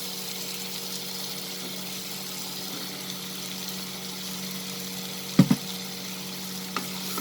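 Long beans sizzling in a pan with potato and spices, a steady, soft frying hiss over a low hum, with a couple of brief clinks from stirring.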